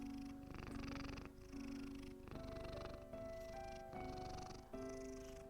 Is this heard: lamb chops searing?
no